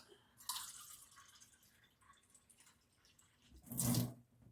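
Cold water poured from a measuring cup over rice in a pan, a short splashy pour near the start and a louder, fuller gush of water near the end, with quiet trickling between.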